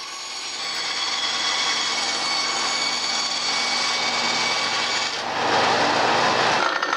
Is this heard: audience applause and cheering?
no